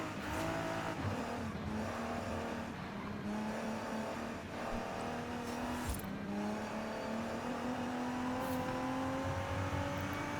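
A rear-wheel-drive Nissan GT-R in Forza Horizon 5 drives a Japanese-style touge mountain road, its engine droning steadily as it climbs and shifts through gears, with occasional tire squeal, loud and continuous without talking.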